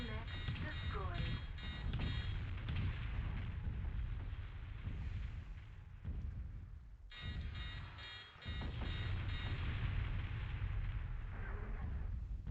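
An enemy mech blowing up in the MechWarrior 2: 31st Century Combat arcade video game, with loud booming blasts and a rolling rumble, a short lull, then more heavy detonations.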